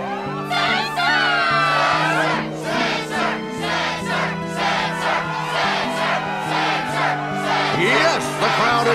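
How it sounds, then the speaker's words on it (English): Cheering and shouting from the crowd at a Struggle match in the Kingdom Hearts video game, with excited voices rising and falling over a sustained roar, loud and close. "Yes, the crowd is fired up"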